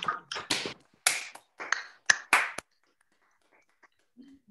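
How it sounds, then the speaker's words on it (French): A few people clapping over opened microphones at an online meeting, heard as sharp, separate bursts from different hands that stop after a couple of seconds, leaving near silence with faint clicks. "Merci d'ouvrir vos micros pour un chaleureux applaudissement pour Delphine Bachmann."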